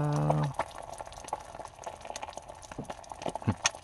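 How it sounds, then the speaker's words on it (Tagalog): A steady bubbling and popping of water boiling with eggs in an electric multi-function hot pot, soft and close, after a brief low electronic tone at the start. "Kumukulo na."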